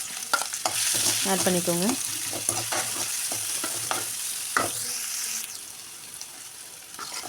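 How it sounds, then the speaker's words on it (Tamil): Chopped onions sizzle in about three tablespoons of oil in a pan for egg fried rice, a steady close frying hiss with clattering stirring strokes, while someone speaks briefly. "இப்போ அதே வானலில் வச்சுட்டு ஆயில் 3 டேபிள் ஸ்பூன் ஊற்றிக்கோங்க. இது கூட கட் பண்ணி வச்சுருக்க வெங்காயம்"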